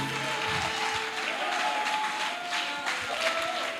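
A church congregation at a French-language worship service applauds continuously, a dense wash of clapping with faint voices and a steady tone underneath.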